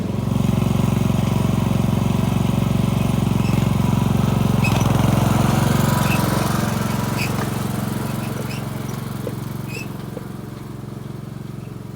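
A 15-horsepower lawn tractor engine labors steadily while towing a trailer loaded with 1,000 pounds of beach sand, a continuous loud mid-range drone that eases slightly in level toward the end.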